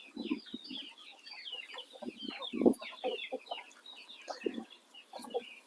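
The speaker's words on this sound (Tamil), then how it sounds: "தாய்க்கோழிகள் விட்டுருக்கு" Mother hens cluck in a poultry pen, with soft, overlapping low clucks and higher chirps in a busy, close chorus and no talking.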